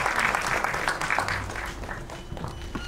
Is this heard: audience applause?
yes